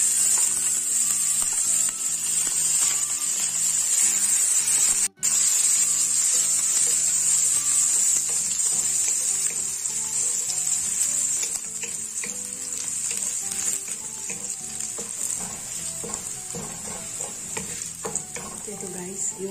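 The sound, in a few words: garlic frying in a hot pan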